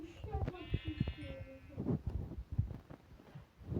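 Sheep in a kingdom-building video game bleat in a few short, wavering cries near the start, followed by clicks and game sounds while someone talks.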